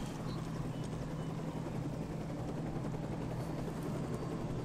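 A helicopter chase in the video game Days Gone: a constant, loud rotor and engine drone that holds steady throughout, with no speech over it.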